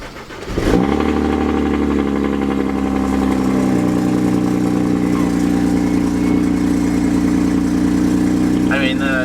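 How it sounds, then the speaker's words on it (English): A BMW 135i car engine cranks and catches, then settles into a steady, loud idle that holds for several seconds, with a brief voice near the end; the service engine light is on. "I'm gonna start it up for you"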